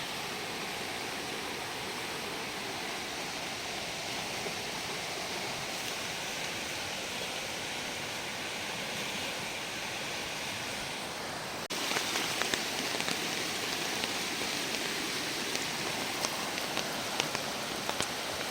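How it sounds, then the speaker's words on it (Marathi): Small village stream in Phonda, knee-deep and flowing with force, gives a steady broadband rush of water with no break, turning slightly brighter and more splashy partway through; no voices. "पाणी फोर्सने तर आहे."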